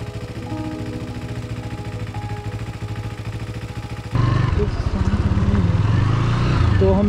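Motorcycle engine droning steadily on a mountain road, a loud rhythmic thrum close by that shifts abruptly to a rougher, heavier tone with wind rush partway through.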